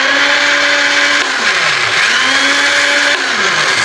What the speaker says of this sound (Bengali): এটাকে আমরা ব্লেন্ড করে নেব